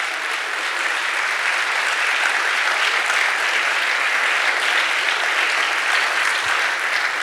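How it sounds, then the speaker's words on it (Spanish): A church congregation applauds during a Spanish-language sermon, with steady, dense clapping that stays even and loud from start to finish and no other sound over it. "Dale un aplauso a nuestro Dios."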